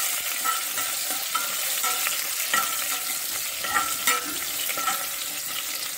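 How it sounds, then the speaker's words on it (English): Garlic frying in oil with dry chilies, a dense steady sizzle with frequent crackles and spoon-stirring scrapes, close up and with no talking. "garlic must be fried in oil to get that excellent aroma"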